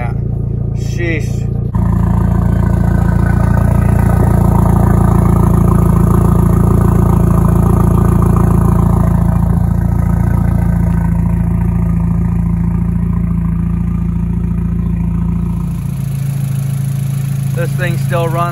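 A Volkswagen Passat B5 with a 1.8T turbo engine catches and keeps running, a steady loud idle with a mechanical clatter that holds for many seconds, then a brief change near the end.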